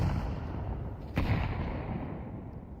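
A grenade explodes in a Counter-Strike match: a single sharp, fairly distant blast that rises out of a steady, noisy background rumble.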